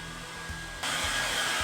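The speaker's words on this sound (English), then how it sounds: "while I continue borrowing my wife's hairdryer" A hair dryer blows steadily to dry a sprayed bathroom area before new silicone sealant goes on, its broadband whoosh jumping noticeably louder partway through as it is moved closer or turned up.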